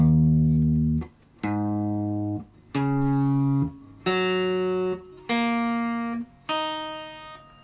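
Open guitar strings tuned a half step down, plucked one at a time in six separate ringing notes, each left to sustain for about a second before the next, clear and close.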